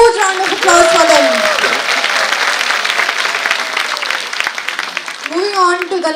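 Loud, sustained applause from an audience at a preschool annual function, dense clapping filling the hall from start to finish, with a voice and some feedback-like tones riding over it.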